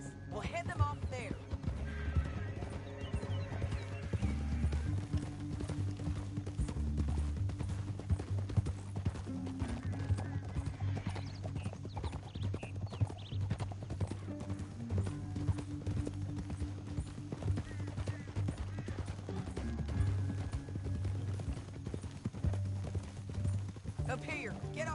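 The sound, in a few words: horses galloping with clip-clop hooves in Red Dead Redemption 2 video game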